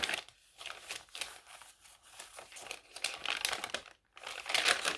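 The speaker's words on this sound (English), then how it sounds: "I just love the crinkle." Paper pages of a handmade heirloom journal crinkle and rustle close up in soft repeated handling bursts, with a brief silent gap.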